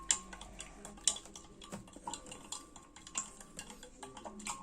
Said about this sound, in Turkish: Bayağı bir hızlı karıştırıyorum.